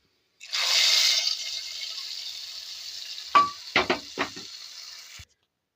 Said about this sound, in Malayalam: അപ്പോൾ ഉള്ളി മൂത്ത് വന്നിട്ട് നമുക്കത് കറിയിലേക്ക് ഒഴിച്ചു കൊടുക്കാം